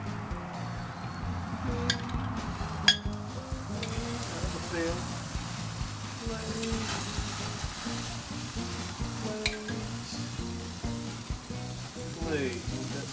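Glazed cedar-planked salmon sizzles on a grill with a steady hiss and occasional clinks, while a person talks over it throughout.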